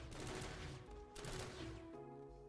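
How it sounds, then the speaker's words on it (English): Burst fire from a gun in Planetside 2: two short, loud clusters of rapid shots, each burst followed by a brief pause, amid steady game ambience. "But if you burst fire"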